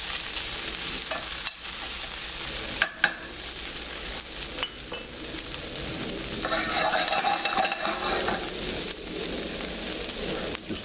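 A cod fillet with onions cooking in a pan in the Lyonnaise style gives a continuous close sizzle, rising briefly louder partway through, with occasional faint utensil knocks.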